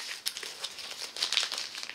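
Crinkling and rustling as a plastic-wrapped cardboard parcel is pulled open, a steady run of papery crackles with a few sharper crunches, close and fairly quiet, no talking.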